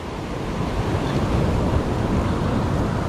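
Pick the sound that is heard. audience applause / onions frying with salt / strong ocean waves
strong ocean waves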